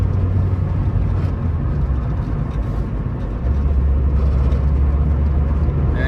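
A lowered Nissan S14 converted to manual transmission runs and drives, producing a steady, loud engine and road drone from inside the car.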